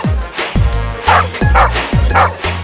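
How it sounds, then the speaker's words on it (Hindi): A dog barks and yips in repeated sharp bursts, about five of them in a steady rhythm, close and fairly loud, in a Hindi-dubbed South Indian action film. "भौंक क्या रहा है?"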